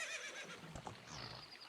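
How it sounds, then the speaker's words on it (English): Epona, the horse in the video game The Legend of Zelda: Ocarina of Time, neighs in a short game whinny heard alone over a steady backdrop of game sound. "So, come on, Link, climb on the horse"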